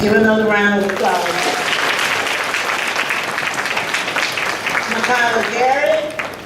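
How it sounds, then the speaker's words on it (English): A crowd claps steadily through a school honors night banquet, the applause dense and moderately loud, while a voice speaks over it at the start and again near the end. "Give another round of applause."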